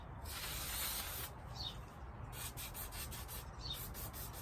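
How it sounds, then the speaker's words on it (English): Bursts of hissing aerosol disc brake cleaner sprayed onto a bicycle brake rotor, close up, with short pauses between pulses, loud and breathy against a quiet background. "grab your disc brake cleaner and spray it onto the rotor"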